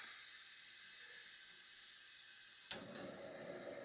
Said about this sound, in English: I'm going to try cooking some actual food on my new little camp stove